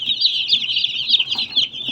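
Broiler chicks chirping in a dense, continuous chorus of high-pitched peeps, close and fairly loud, with no talking over it.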